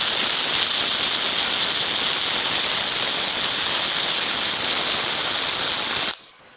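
Steady, loud crackling hiss of welding on a steel motor mount for a Cummins diesel conversion runs for several seconds, then cuts off abruptly near the end.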